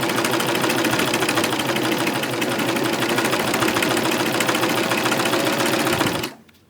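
A serger stitches steadily around the edge of a baby wash cloth, its fast needle rhythm running loud and continuous up close before stopping abruptly near the end.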